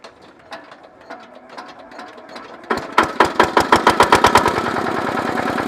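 A diesel engine on a farm power machine is cranked with a few scattered mechanical clicks, then fires up into a loud, steady, rapid chugging rhythm that settles into a running idle, with no talking.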